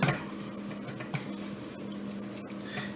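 A spoon stirs béchamel into a thickening roux in a pot, giving soft, continuous scraping and light clinks against the metal, with a steady low hum underneath and no talking.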